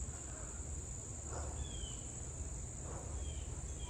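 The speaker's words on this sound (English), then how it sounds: "That was a cicada that scared the living daylights out of me" A cicada buzzes in a garden, a steady high-pitched whine holding throughout at a moderate distance, with a few soft rustles and faint chirps underneath and no talking.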